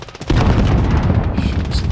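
GRAU 5.56 assault rifle fire in the Warzone video game, a loud burst of rapid shots kicking in after a brief quiet start and continuing throughout.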